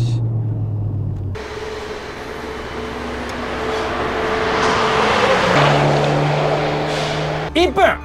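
A second-generation Honda Integra Type R race car at Tsukuba accelerates out of the final corner, engine tone climbing and shifting gears loudly under continuous commentary, ending with a brief burst of noise.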